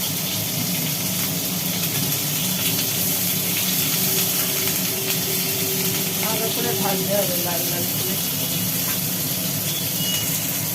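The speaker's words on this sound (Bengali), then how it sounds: "এবার তেলের মধ্যে একটা একটা করে কপি পড়ছে ফুলকপি" Cauliflower pieces frying in hot oil, giving a loud, continuous hissing sizzle throughout at close range, with brief tonal sounds rising midway.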